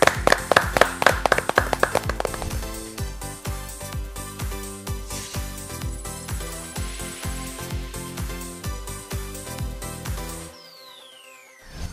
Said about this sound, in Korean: 공무원 사회 마스터 서호성 교수님의 강의 지금부터 박수로 청해드릴게요